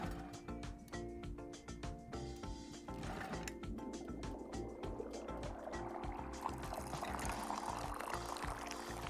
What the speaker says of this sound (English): Then pull the rope you see here in order to pour tea into the cup.